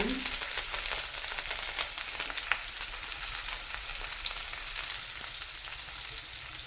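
Shallots and curry leaves frying in a pan, with a steady, loud crackling sizzle that runs throughout and has no talk over it.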